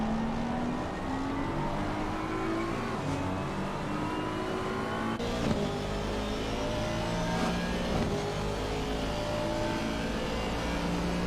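Aston Martin GT3 race car engine in a sim racing game at Misano, a steady low rumbling drone with shifting revs and a couple of brief gear-change blips, continuous and fairly loud throughout.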